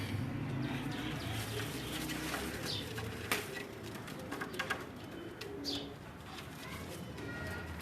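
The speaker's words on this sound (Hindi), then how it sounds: "ये है जी फ़कीर गुल कबूतर है" Fakir Gul pigeons at a pigeon club in Gujranwala coo softly and repeatedly in low murmurs, with scattered chirps and a faint buzz of insects around them.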